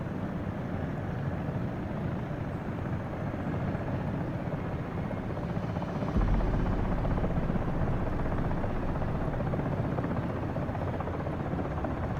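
Steady, loud rotor drone from a Comanche attack helicopter in a VR flight game, holding constant throughout with a deeper low-end rumble swelling in about halfway through.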